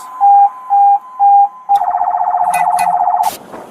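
Three short electronic beeps, then a loud rapid warbling siren close by, with a couple of sharp chirps before it cuts off.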